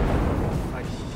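A bomb blast in the video game Garry's Mod lets out a dense, rumbling boom that fills the whole moment, loud and close, with a voice talking over it.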